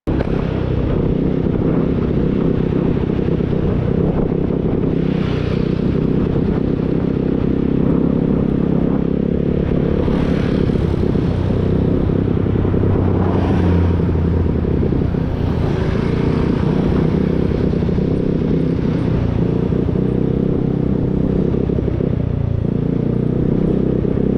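A motorcycle engine runs loudly and continuously with a rough, uneven sputtering chug, its pitch wavering slightly across the stretch.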